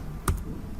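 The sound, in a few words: computer keyboard pressing Ctrl R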